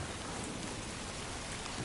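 Rain in the video game Death Stranding 2 falls as a steady, dense hiss of drops that stays even throughout, with no talking.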